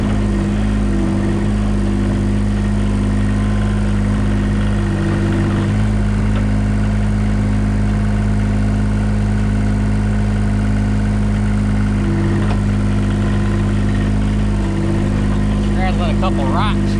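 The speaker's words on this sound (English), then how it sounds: "How's that for an electric motor?" A salvaged electric motor from abandoned farm equipment runs steadily at close range with a constant low hum. Someone talks over it throughout.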